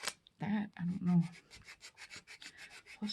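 Dip powder manicure being filed off full-cover nail tips, a quick run of short, rhythmic gritty rubbing strokes, close and fairly quiet, with a few louder strokes near the start.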